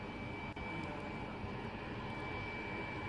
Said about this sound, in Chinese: 那么今天呢，是一共会有11架运输机到达武汉